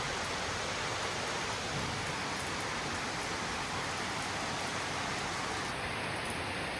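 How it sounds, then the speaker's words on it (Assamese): Rain falling steadily as an unbroken, even wash of broadband hiss that carries on throughout with no pauses. No voices can be heard. "গাইজ বৰষুণ দি দিলে বৰষুণ"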